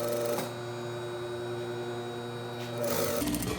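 A sewing machine runs a top stitch along the facing edge of a bodice: a steady mechanical hum with a brief start-up rattle and a clattering finish.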